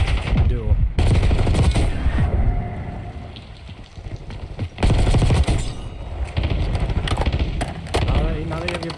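Dense automatic gunfire in a Call of Duty match: rapid, loud bursts of machine-gun fire and shots fill most of the stretch, with short pauses between volleys.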